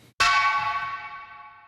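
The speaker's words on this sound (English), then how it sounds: "I added in this keg sound that I downloaded off the internet" One sharp metallic keg hit rings out like a struck bell, bright and resonant, then slowly fades over about a second and a half.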